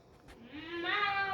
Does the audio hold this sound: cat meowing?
yes